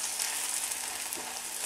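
German pancake batter (Pfannkuchen) sizzles steadily in a hot pan just after being turned, a close, continuous frying hiss with no voices.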